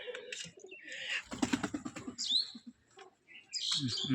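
A pigeon, one of a coffee-coloured pair of high-flying tumbler birds, coos and calls nearby in short bursts, with faint chirps from other birds around it.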